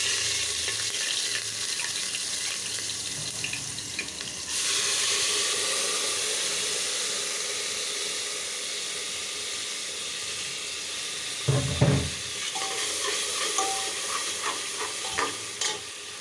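Bottle gourd with turmeric, chili, coriander, ginger-garlic paste and salt frying in oil for a prawn curry, a steady close sizzle with scraping stirs and a few clanks of the spoon against the pan, no talking.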